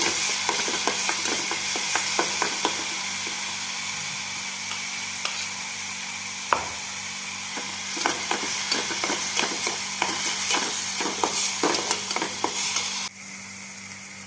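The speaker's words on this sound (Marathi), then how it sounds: "तेल गरम झाल्यावर आपल्याला ठेचा टाकून घ्यायचा आहे" Crushed green chili thecha, a Maharashtrian chili relish, frying in hot oil in a pan, a close steady sizzle broken by repeated scraping stirs of a spoon, then a drop to quieter sizzling near the end.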